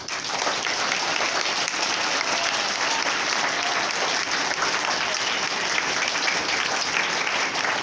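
An audience claps together at the close of a Sahaja Yoga meditation session held in a government secondary school in Gurugram: dense, continuous, loud applause that holds steady from start to finish.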